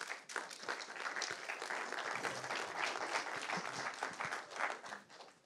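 An audience at a lightning talk on digital financial inclusion claps for Mr. Karamuka, with distinct individual claps scattered over a quieter, moderately dense patter that rises and falls across several seconds.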